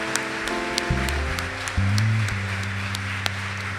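A church congregation claps during an evening service, scattered sharp claps over sustained organ or keyboard chords.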